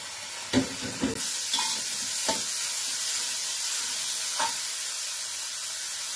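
Pork stir-fried in a hot pan: steady loud sizzling with several sharp scrapes and clatters of the utensil against the pan in the first few seconds, then a lighter stir near the end.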